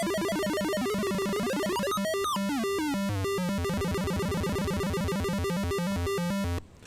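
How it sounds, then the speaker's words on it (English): A four-step sequencer built on CMOS chips makes rapid electronic bleeps stepping through a repeating pattern of pitches, buzzy and continuous, with swooping pitch changes before it cuts off. "that's the 4-step sequencer. It's running on CMOS chips"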